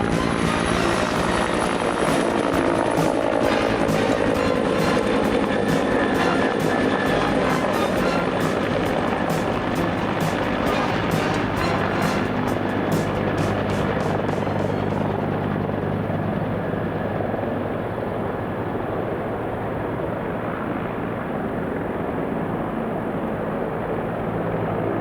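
Wildfire helicopters fly overhead at some distance, their rotors a constant loud thrumming roar with rapid blade chop that holds steady and then eases slightly, without any voices.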